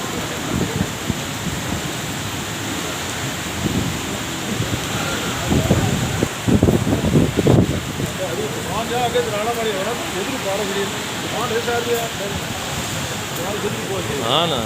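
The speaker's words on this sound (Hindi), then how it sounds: "हाँ ना हर तरफ बारिश आ रही है" Heavy rain falls steadily in Islamabad as a dense, even hiss, with louder gusty surges in the middle and people talking over it.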